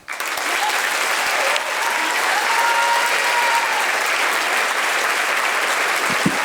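A theater audience applauds to welcome director Miranda July at the Walker, a full, steady wash of clapping that swells quickly and holds loud for several seconds before tapering slightly.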